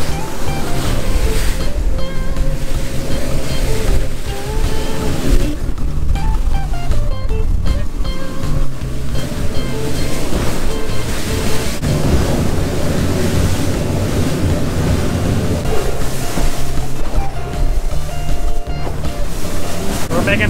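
A fishing boat with full ballast tanks runs at 30 knots through ocean waves in about 20-knot wind, a loud, steady engine drone under constant rushing water, spray and wind buffeting the microphone.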